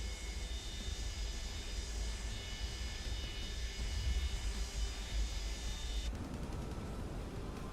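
Boeing 727 auxiliary power unit in Microsoft Flight Simulator 2024, a steady broadband turbine roar with a constant high whine, running alone without a break until a sudden change in tone near the end.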